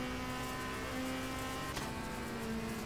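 Race cars passing at Monza in RACE: The Official WTCC Game, a loud continuous engine drone with a sharp pass-by swell near the middle and no talk.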